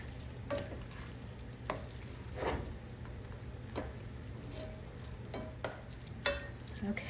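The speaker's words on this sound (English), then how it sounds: "I'm gonna stir this together." Spinach dip being stirred in a pan over medium-low heat, a soft steady sizzle with repeated scraping strokes of the spoon at irregular intervals, close and fairly quiet, with no talking.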